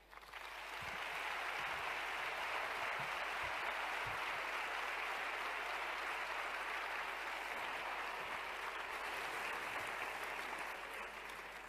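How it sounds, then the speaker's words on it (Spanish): A sustained round of audience applause at a talk on coeducation law in Spain, dense and steady clapping from a crowd that holds at an even level for the whole stretch. "Me gustaría que diéramos un aplauso a Paqui, pero también que fuera un autoaplauso para todas nosotras y todos nosotros."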